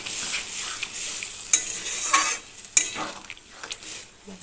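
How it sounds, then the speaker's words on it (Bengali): Pointed gourd, potato and prawn curry being stirred in a pan after a little water is added, with a steady soft sizzle broken by several sharp scrapes and clinks of the spoon against the metal. "ভালো করে নেড়ে দিই।"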